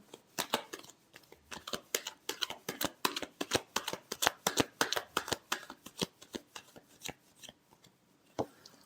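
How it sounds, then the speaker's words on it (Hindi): Tarot cards are shuffled close up in quick riffles, a dense run of crisp snapping flicks that tapers off near the end. "Last shuffle."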